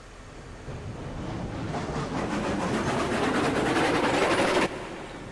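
Train running in the railroad video game Railroads Online: a steady rumble with rhythmic clickety-clack that slowly builds louder for a few seconds, then drops off abruptly, with no talking.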